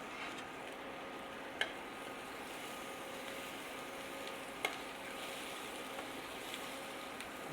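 Vegan sausages fry quietly in a pan, a faint, even sizzle with two brief sharp ticks standing out.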